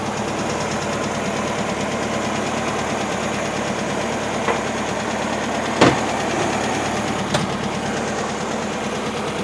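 A 1971 VW bus engine idles steadily with an even, throbbing mechanical rumble and a faint knocking texture, continuous and close, with a couple of brief clicks partway through and no talking.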